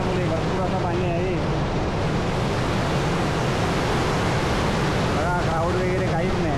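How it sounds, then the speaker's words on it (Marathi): Belwadi waterfall running heavy after several days of rain, a constant loud roaring rush of water that fills everything, with a voice speaking briefly over it near the start and end. "सुंदर असा बेलवाडी वॉटरफॉल"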